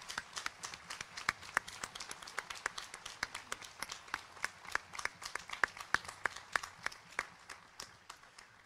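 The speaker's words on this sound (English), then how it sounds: "Let's have a round of applause, please." A crowd at a 2018 April college commencement ceremony breaks into sustained applause, a dense, steady patter of many hands clapping that carries on evenly for several seconds at moderate distance.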